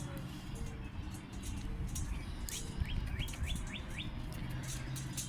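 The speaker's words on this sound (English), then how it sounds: "this is a male house sparrow" Male and female house sparrows in a trap give a quick series of short chirps, faint and fairly distant, against steady background hum with traffic noise.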